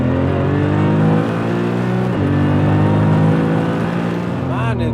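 A 1000HP BMW M3 fitted with hybrid turbos accelerating hard, heard from inside the car: a loud, steady engine drone whose pitch climbs through the gears, with a brief shift dip and turbo whir near the end.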